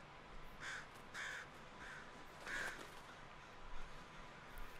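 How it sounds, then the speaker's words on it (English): Crows cawing in the video game Death Stranding, four or five distinct harsh caws spaced about half a second apart, moderately clear over a low steady background hum. "Look at those fucking crows."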